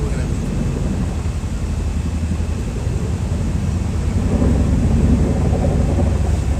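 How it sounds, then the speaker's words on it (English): A Chinook helicopter passes overhead, a steady loud low rumble and roar that swells slightly toward the end, continuous with no talk over it. "A Chinook."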